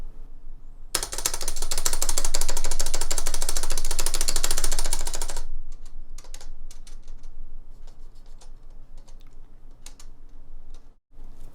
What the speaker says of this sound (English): it's pretty stable, but it has a lot of metal rattle